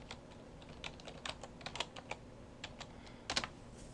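Typing on a computer keyboard while entering APA-style references: irregular bursts of soft key clicks with short pauses, a quick cluster near the end, close and fairly quiet, with no talking.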